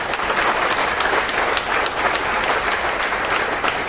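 Loud, steady applause from a large audience at a gathering honoring distinguished guests, a dense wash of clapping that fills the whole stretch without pause.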